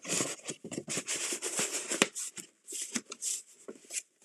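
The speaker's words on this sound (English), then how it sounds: "So now I'm going to stick this box into this envelope." A cardboard box is pushed and slid into a shipping envelope, giving a close run of crisp rustling, scraping and crinkling bursts with short pauses between them and no speech.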